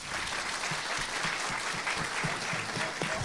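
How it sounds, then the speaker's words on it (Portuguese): A seated audience at a legal-sector conference panel applauds, a dense, continuous patter of many hands clapping at moderate distance for over three seconds. "podem aplaudir"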